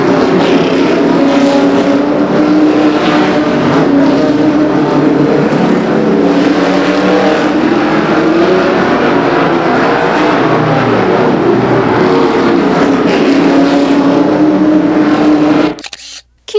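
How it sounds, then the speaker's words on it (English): Stock cars race around a 1/5 mile oval at Raceway Park in Blue Island, engines droning loud and close with rising and falling pitch as cars pass, the roar continuous before cutting off abruptly near the end. "Typical of the close action found on Raceway Park's 1/5 mile oval, watch as John Brolick in car number 2"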